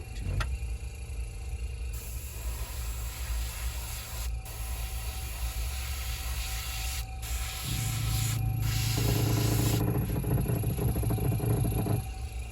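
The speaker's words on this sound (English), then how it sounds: "that little air compressor likes to crawl around" A small air compressor runs steadily during paint spraying on an M422 Mighty Mite, a constant mechanical drone with a buzzing motor tone that grows slightly louder and rougher partway through.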